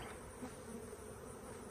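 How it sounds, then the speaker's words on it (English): Honey bees buzz around a swarm trap holding an established colony, a faint continuous hum of many wings close by with no voices. "Let these bees get to spreading out and working on it."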